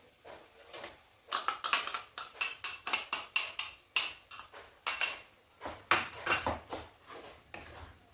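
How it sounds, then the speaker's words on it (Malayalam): A spoon stirring soya chunk masala curry in a metal pan, producing a rapid series of close, sharp clinks and scrapes against the pan, pausing briefly before another burst of clattering strokes. "എന്നിട്ട് നന്നായിട്ട് നമുക്കിതൊന്ന് ഇളക്കി യോജിപ്പിക്കാം."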